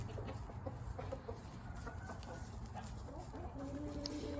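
A rooster clucks near its coop at evening on a small farm, with soft, close clucks repeating over a low background rumble.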